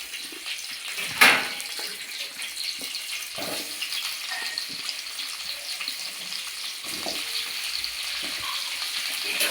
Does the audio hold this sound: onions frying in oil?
yes